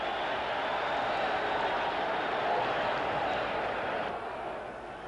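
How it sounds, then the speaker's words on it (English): Boxing arena crowd cheering in approval during a Sung Kil Moon vs Kenji Matsumura bout, a steady loud roar of many voices filling the hall and holding for several seconds before easing slightly at the end. "The crowd approve of that, okay?"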